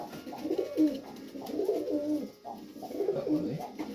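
Junior racing pigeons coo close by, soft low throaty phrases repeated in a steady rhythm of several bursts.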